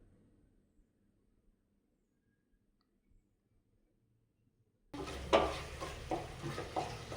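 Tomatoes being sautéed in a pan for kushka biryani, heard after several seconds of near silence as a sudden burst of sizzling and frying with scraping stir strokes, close and steady.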